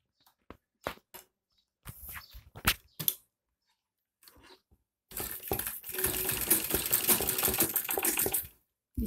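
A sewing machine stitches fabric for a kurti made from leftover cloth, running as a steady, close whir for about four seconds after a few scattered clicks and handling noises.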